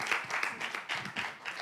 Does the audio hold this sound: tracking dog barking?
no